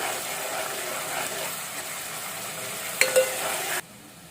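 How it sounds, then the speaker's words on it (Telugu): Ginger garlic paste frying in a pan of oil for gongura prawn curry, a steady broadband sizzle that runs evenly, with a brief clatter near the end before the sound cuts off. "అల్లం వెల్లుల్లి పేస్ట్ వేసుకుంటున్నాము"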